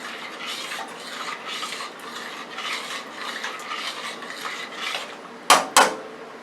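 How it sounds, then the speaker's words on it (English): Utensil scraping and stirring through fish chowder in a pot, a steady rubbing churn with soft repeated strokes, ending in two sharp clanks against the rim. "Give that a stir"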